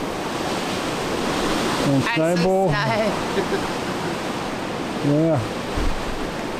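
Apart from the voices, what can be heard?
strong wind blowing outdoors in a Quebec snowstorm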